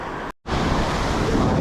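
Big surf breaking on a Philippine shore during shore fishing, a loud wash of rushing water noise close by, briefly cut to silence for a moment before the roar resumes, no talk.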